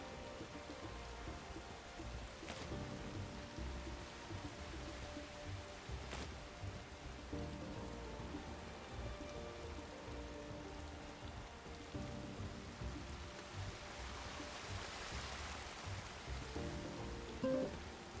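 Rain falls in the video game Paleo Pines as a steady, soft, continuous patter, faint and unbroken, with a few brief louder ticks here and there.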